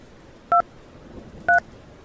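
A phone is dialed to call an emergency number, with two distinct keypad tones about a second apart, clear and close against a quiet background.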